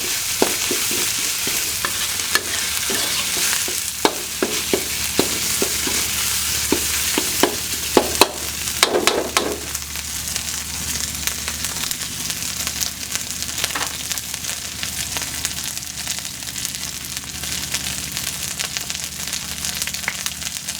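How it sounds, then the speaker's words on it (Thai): Thai curry paste and fish sauce are stir-fried for a fish curry with pickled bamboo shoots, giving a close, steady sizzle and a busy run of scraping spatula strokes that ease off into a softer frying hiss, with no talk. "แล้วก็น้ำปลา ผัดให้หอมไปเลยนะครับ"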